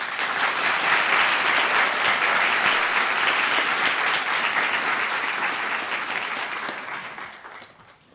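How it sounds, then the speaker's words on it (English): Sustained audience applause at a 2022 white coat ceremony, a dense, even wash of many hands clapping close by that holds steady and then fades toward the end, with no talking over it. "Another round of applause"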